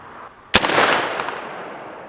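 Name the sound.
50 caliber AR rifle shots fired across a chronograph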